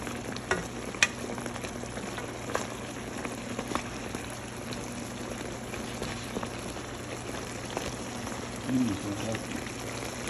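Pork steak frying in oil over low heat, a steady soft sizzle and crackle running throughout with occasional louder pops, while a person talks over it.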